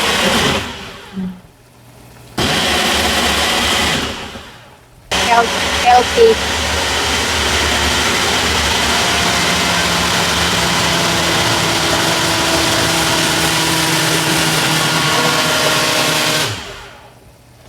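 June runs a kitchen blender in a couple of short bursts, then one long, loud motor whir that cuts off sharply at the end, with a brief spoken word near the start.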